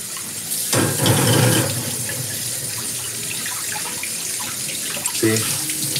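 A kitchen tap runs as a roasted vegetable is rinsed under it, the charred skin washing off: a steady, fairly loud stream of water that swells briefly near the start and splashes again toward the end.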